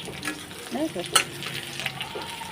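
Spices and salt fry in a pan and are stirred briskly, a close crackling sizzle with a few utensil scrapes over a short stretch.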